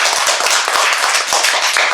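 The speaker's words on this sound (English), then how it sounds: "Give a round of applause" A school club showcase audience gives a brief burst of dense, lively applause, many hands clapping close together with a few sharper individual claps standing out.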